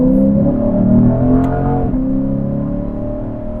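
A Lexus IS 500 F-Sport Performance accelerates hard, its engine note climbing steadily, then a quick upshift briefly drops the pitch before it pulls on, loud and close from inside the car.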